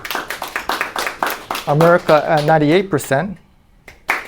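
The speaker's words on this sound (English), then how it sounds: "you're going to be clapping a lot if you guys do that" Audience clapping at a sales results meeting, a burst of short claps in the opening seconds that gives way to a speaker talking, with a brief clap near the end.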